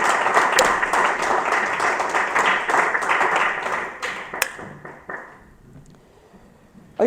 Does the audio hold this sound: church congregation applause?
yes